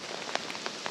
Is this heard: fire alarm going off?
no